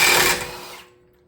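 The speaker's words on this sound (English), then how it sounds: "Now ready to take the axle nut off." A power tool spins off the axle nut on a 2006 Honda CR-V during strut and ball joint work. It gives one loud, close, harsh burst that fades away within about a second.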